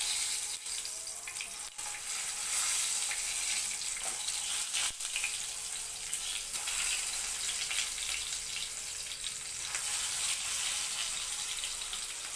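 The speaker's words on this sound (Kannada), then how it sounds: "ಇವಾಗ ಇದಕ್ಕೆ ಒಂದೊಂದೇ ಬದನೆಕಾಯಿ ಬಿಟ್ಕೊಳ್ಳೋಣ" Eggplants sizzling in hot oil with mustard seeds and asafoetida for North Karnataka ennegayi, a continuous crackling hiss with a few sharp pops, no talk.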